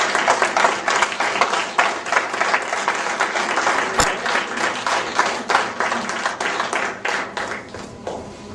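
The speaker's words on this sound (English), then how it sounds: "I think we should give Neil another round of applause." An audience gives a speaker named Neil a sustained round of applause, dense clapping from a crowd that carries on evenly at full strength for the whole stretch.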